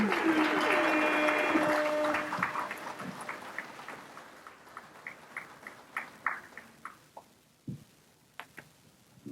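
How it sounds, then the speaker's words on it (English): At a professional dinner in Calgary, a room full of guests breaks into applause over a faint voice. It is full at first, then thins after about two seconds into scattered individual claps that trail off. "Let's give her another round of applause."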